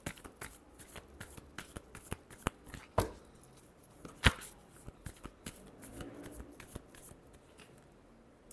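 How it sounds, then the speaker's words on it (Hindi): A deck of tarot cards is riffled and shuffled by hand, giving soft repeated flicking and riffling with a couple of sharper snaps, close and fairly quiet, with no talk. "Last shuffle."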